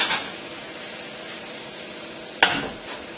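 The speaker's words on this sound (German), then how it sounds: "Unser Gemüse brät schön an oder schmurgelt leicht durch." Vegetables and leek frying gently in a pan for an onion tart give a steady soft hiss, broken once by a brief sharp clatter of utensil on pan.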